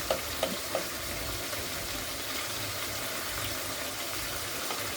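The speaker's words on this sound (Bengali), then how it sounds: "এভাবে আস্তে আস্তে ভালোভাবে নেড়ে নেবেন যাতে মাংসটা কারাইয়ের সাথে লেগে না যায়" Beef frying and being stirred in a karahi, a steady low sizzle running throughout with a few light scraping clicks near the start, moderately close and with no talking.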